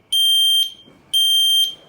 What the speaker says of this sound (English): we press the test button, we get the 3 beeps there, then that one goes.